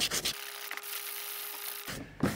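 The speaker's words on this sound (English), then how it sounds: "See, we're gonna need some more sanding." A steady rasping scrape of sandpaper rubbing across a boat hull, close by, one continuous stroke between short bursts of rougher scratching.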